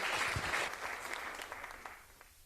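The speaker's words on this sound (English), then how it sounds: "a big round of applause for our people from the Maniatoto" Audience applause at a farmer of the year awards night, a short burst of clapping that starts fairly loud and fades away within a couple of seconds.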